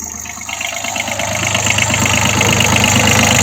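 Diesel engine of a Kubota B52 compact tractor idling with the hood open, a steady close rhythmic chug with slight knocking that grows a little louder, and no talk.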